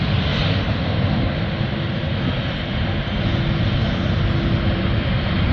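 A fixed-wing airplane rolls down a runway and takes off, its engine a steady, loud, unbroken roar that holds at close range with no voices over it.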